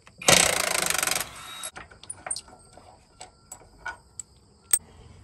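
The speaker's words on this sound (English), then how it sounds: "Throw the impact on here and then we'll get this bolt." A pneumatic impact wrench rattles in one loud burst of about a second on a bolt of an RV trailer's Lippert torsion axle, followed by scattered metallic ticks and clanks of the bolt and tools.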